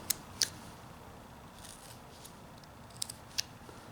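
A knife cutting into a small carved wooden character's face, heard as a few sharp, faint snicks spaced apart over a quiet background with no talking.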